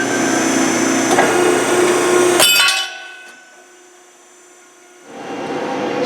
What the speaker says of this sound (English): So we just sheared off function number 3, the angle iron shear.